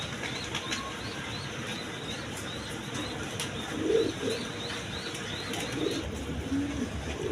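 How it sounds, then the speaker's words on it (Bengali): High-flying Giribaz pigeons coo softly in a loft, low murmuring calls rising a few times over a steady background hum, with faint wing flutters and no talking. "এখানে এক পেয়ার হাই ফিলাইং গিরিবাস কবুতর আছে দুটা ডিম নিয়ে দেখেন"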